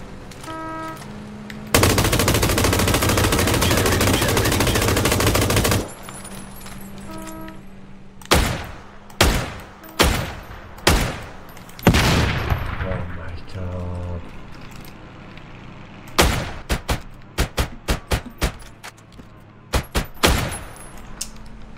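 Sniper rifle fire in a video game shooter: a sustained loud burst of rapid gunfire, then a string of sharp, widely spaced shots with echoing tails and quick clusters of clicks, with a voice talking at times.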